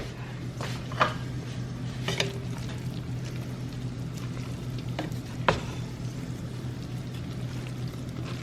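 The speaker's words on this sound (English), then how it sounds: "I'm just gonna get the little bits that are falling through and mix all of that up" Pasta and meal-prep ingredients are stirred and mixed in a container, with soft scraping and a few sharper clinks over a steady low hum, close and moderately quiet, no talking.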